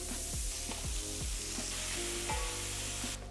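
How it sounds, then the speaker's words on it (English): Beef searing in a hot pan during homemade chili prep, a steady loud sizzle full of crackling, high-pitched pops and a few stirring scrapes, without talk. "You can tell if this is searing properly because you'll have a high pitched like popping sound."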